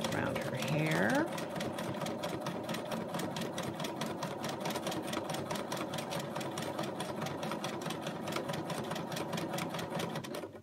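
A sewing machine with a hopping foot stitches along a traced line on fabric, a fast, even mechanical chatter running continuously and close, with a brief squeak near the start.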